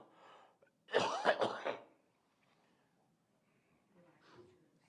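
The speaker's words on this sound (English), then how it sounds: "Excuse me, my coughing here." A person coughs a few times in a quiet indoor courtroom hearing, a brief close burst of harsh coughs followed by faint shuffling.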